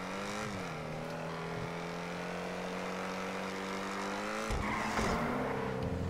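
Coil Cyclone electric car in a racing video game, driving with a steady rising-and-falling electric motor whine, loud and close, and a burst of tire noise near the end; no talking.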